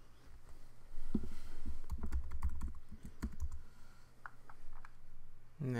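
Keys clatter on a Mac computer keyboard as a user password is typed, a quick run of close, crisp clicks in short bursts against a quiet room.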